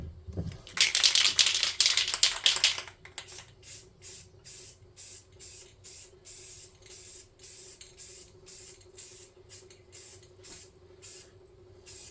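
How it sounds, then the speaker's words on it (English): A loud, long hiss of a can of black spray paint for a couple of seconds, followed by a quick series of short rhythmic spray bursts. "I'm going to hit this with some spray paint real quick"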